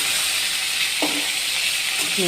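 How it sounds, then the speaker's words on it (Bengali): Cauliflower pieces frying in oil make a constant, dense sizzling hiss from start to finish, with a couple of faint clicks over it. "ফুলকপিগুলো ভেজে নিচ্ছি।"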